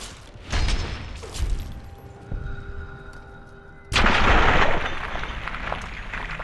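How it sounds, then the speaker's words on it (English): An explosion in the Fallout video game, a loud broadband blast that erupts partway through and lingers as a rumbling roar, preceded by scattered thuds and game noise. "That's an explosion."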